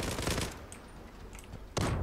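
Shotgun blasts in the online shooter Zula Europe: a loud burst of gunfire at the start, a quiet lull with faint distant shots, then another sharp blast near the end, no talk.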